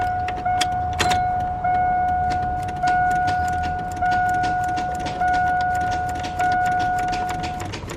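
A truck's starter clicks repeatedly without cranking, a steady run of evenly spaced clicks over a constant chime tone inside the cab, close and loud, with a jangling bump near the start.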